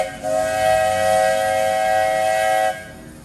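A loud, sustained steam train whistle blows for about two and a half seconds on the Magic Kingdom railroad, then stops, leaving a low rumble of the train underneath.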